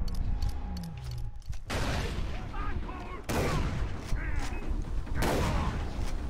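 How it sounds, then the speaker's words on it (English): A grenade goes off in the Far Cry 3 video game, amid loud bursts of gunfire and explosive booms that recur through the mix, with a voice talking over the dense combat din. "I'm gonna hit these guys with the grenade"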